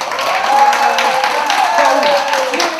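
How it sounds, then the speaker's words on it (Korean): Parents and students applaud together to encourage a child at a breaking board event, a loud, sustained round of clapping from a crowd with voices mixed in. "학부모, 응심자 할것 없이 모두 한 마음으로 격려의 박수를 보낸다."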